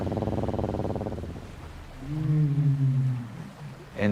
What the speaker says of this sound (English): Whales produce these rumble sounds, similar to what you hear with an elephant.